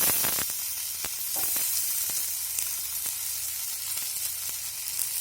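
Mixed vegetables fry on an oiled dosa tawa with a steady, close hiss of sizzling, punctuated by a few sharp clicks and scrapes of stirring.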